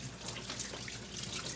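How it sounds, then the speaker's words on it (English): Kitchen faucet running steadily while hands get a quick rinse, a soft continuous splashing wash of water, faint and even throughout, with no speech. "So I'm going to give my hands just a quick rinse."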